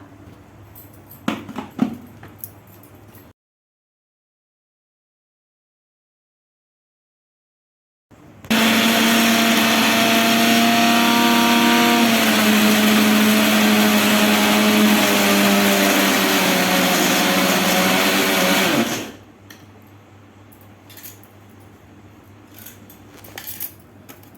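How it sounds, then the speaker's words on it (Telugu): A mixer grinder whirs loudly and steadily for about ten seconds while it grinds dried bitter gourd into powder. The motor pitch drifts slightly, and quiet handling sounds come before and after it. "మిక్సీ పడతా."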